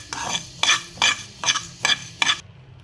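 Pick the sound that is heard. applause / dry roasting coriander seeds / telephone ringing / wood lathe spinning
dry roasting coriander seeds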